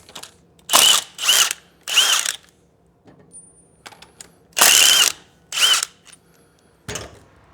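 A power tool with an 8mm Allen bit drives out the exhaust screws on a 2024 Triumph Bonneville Bobber, in several short whirring bursts separated by quiet pauses and faint metallic clicks, close by with no talk.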